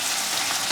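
Cumin powder and coriander powder sautéing in oil in a pan for Mysore mutton curry, a steady close hiss of frying without any pause or talk.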